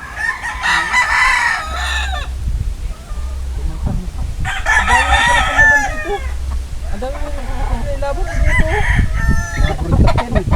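A rooster crows three times, loud and close, with hens clucking in between.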